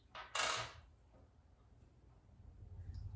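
A single coin drops with a short metallic clink and brief ring, then fades to quiet room tone, set down alone as one item among small household objects.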